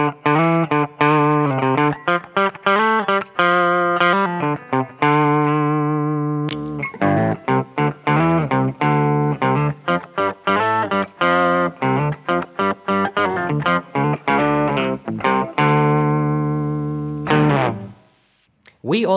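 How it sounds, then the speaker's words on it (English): Electric guitar played through a Donner Harmonic Square pitch shifter pedal, giving a continuous, layered, pitch-shifted and modulated tone across a run of strummed chords and single notes that fades out near the end. "we have the Harmonic Square, which is a pitch shifter with several modulation options to choose from,"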